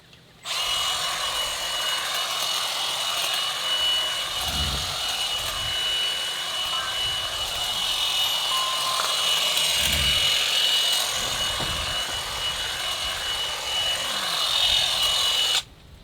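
Milwaukee M12 cordless detail hedge trimmer with an 8-inch blade cutting back overgrown shrubs against a house, a steady buzzing drone that runs nearly unbroken for the whole stretch, close and fairly loud, with low thumps of branches now and then.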